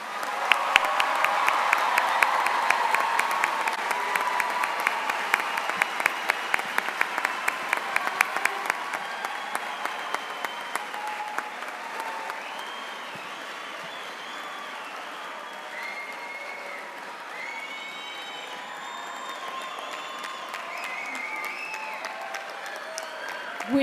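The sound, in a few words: audience applause for the graduates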